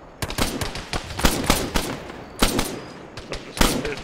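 Gunfire rattles through an Arma ShackTac video game battle, with sharp irregular shots and bursts close by, some in quick clusters, spread across the whole stretch.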